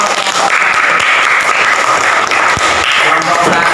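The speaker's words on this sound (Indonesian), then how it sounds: "Silakan tepuk tangan." Students in a classroom session on a Quran lesson give loud, close applause that runs unbroken through the whole short stretch, with some voices mixed in.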